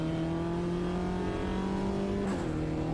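Race car in Automobilista 2 with a sequential gearbox accelerating out of the pit lane, a loud steady engine drone rising in pitch, then a quick upshift near the end.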